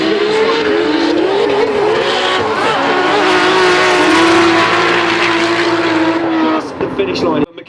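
A drift car screams at a motorsport round at 3 Sisters, its engine revving hard at a sustained high pitch with tires squealing through the slide. Loud and close, it runs nearly nonstop, with commentary over the top.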